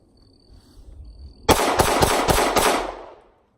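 Five rapid gunshots from a Glock 43X pistol ring out in quick succession, sharp and loud against near silence, each crack trailing off briefly.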